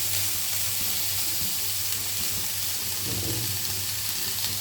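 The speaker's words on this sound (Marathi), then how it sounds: "लाईटली सुंदर अशी भाजी तव्यावरती होत आहे. त्याचा आवाज पण करतो, आवाज येत आहे." Broccoli and other vegetables fry on a hot griddle, giving a steady, broadband sizzle that holds evenly from start to finish with no talking.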